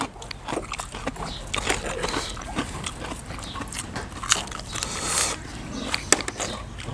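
Someone bites and chews crispy lotus leaf up close, with repeated crunchy snaps and wet chewing in an uneven rhythm.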